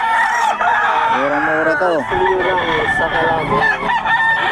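A white rooster crows loudly and close by, its long cry rising and falling, with clucking fowl and people talking around it.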